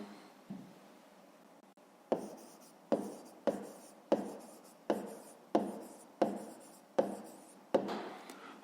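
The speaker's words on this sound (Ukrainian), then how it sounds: "Гаразд, записуємо відповідь." Pen strokes on paper as a math answer is written out by hand, a series of soft, regular scratchy bursts roughly every half second in a quiet room.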